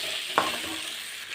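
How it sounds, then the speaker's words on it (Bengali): Cauliflower and potatoes are sautéed with spices in a pan: a brief, soft sizzle with a quick scrape of stirring. "আমি ফুলকপি আর আলুটা দিয়ে এখন কষিয়ে নিচ্ছি"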